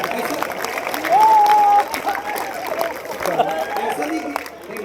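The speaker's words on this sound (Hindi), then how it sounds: "आप ताली बजा दीजिए" An audience at an outdoor kavi sammelan poetry gathering breaks into a short burst of clapping, with a speaker's voice and crowd murmur around it.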